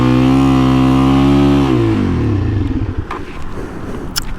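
A Suzuki DRZ400E motorcycle engine holds a loud steady drone, then drops away into uneven clattering idle and sputtering, close up with no voices.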